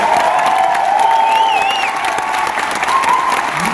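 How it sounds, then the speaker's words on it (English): Children and parents at a school garden-themed performance give a round of steady, dense applause, loud and close, with a few faint shouts mixed in. "Another round of applause."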